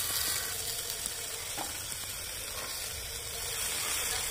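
Potato greens added to mixed vegetables frying in a pan, producing a steady, even sizzling hiss that runs unbroken from start to finish.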